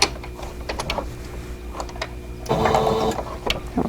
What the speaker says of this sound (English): Let's go ahead and overstitch here.